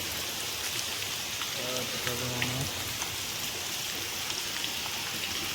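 Rain falls steadily at Dhanmondi Lake, a dense, even patter of drops throughout, with a short stretch of voices briefly heard under it.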